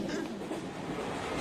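A moving passenger train rolling along the rails, a steady rumbling clatter of wheels heard from inside the carriage, continuous and moderately loud with no clear voices.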